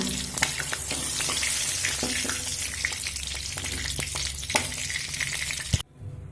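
Chicken pieces fry in hot salted oil in a wok, giving a loud, steady sizzle with occasional stirring clicks before cutting off abruptly near the end.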